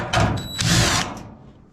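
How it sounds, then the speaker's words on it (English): A power drill backs screws out of a Maytag Maxima S dryer that is noisy and showing F4 E3 error codes. Two close, short whirring bursts come within about a second, then fade to quiet room tone. "Now I got the screws here. I'm gonna pull out screws."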